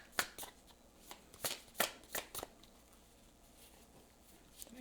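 Tarot cards shuffled by hand in a run of crisp riffling bursts, several close rapid flutters in the first half and then quieter handling, with no voice.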